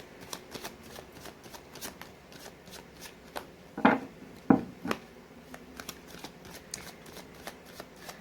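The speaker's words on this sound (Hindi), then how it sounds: "मैंने कर ली है कार्ड्स की सफलिंग" Tarot cards being shuffled by hand, a soft close riffle of rapid flicking card edges with a couple of louder slaps near the middle, quiet and without speech.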